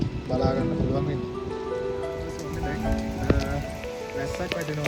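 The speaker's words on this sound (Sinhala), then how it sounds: "වැස්සක් වැටෙනවා." Rain falling at Ambuluwawa tower near Gampola in Sri Lanka: a steady patter of drops on surfaces, heard close, mixed with other layered sounds throughout.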